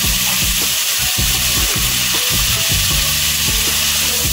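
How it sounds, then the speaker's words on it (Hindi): Noodles fry in oil in a pan with Chinese salt, a loud, continuous close sizzle with rhythmic scraping strokes of stirring repeating across the clip, no voices. "अच्छी तरह भूनें, ज़्यादा टाइम नहीं लगेगा।"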